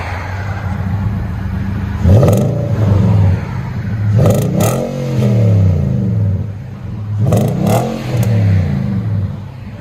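A Nissan Titan 5.6L V8 pickup with an aftermarket exhaust and black tip revs three times in loud, close bursts, each rising then falling back to a deep, rumbling idle between them.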